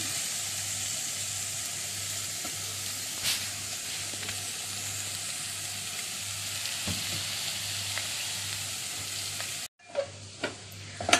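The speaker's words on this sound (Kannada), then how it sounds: "ಇದೆಲ್ಲ ಎಣ್ಣೆಯಲ್ಲಿ ಸ್ವಲ್ಪ ಫ್ರೈ ಆಗಬೇಕು. ಆಲೂಗಡ್ಡೆ ಹಾಕಿದ್ದೇವೆ ಈಗ ನೋಡಿ." Spices and potatoes fry in oil for samosa filling, giving a constant close sizzle with occasional scraping stirs, then the sizzle cuts out near the end, leaving a few clanks.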